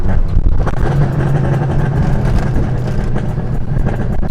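Tofaş car engine pulled to high revs in third gear while driving, a loud, gritty, continuous roar with road and wind noise, close and sustained throughout.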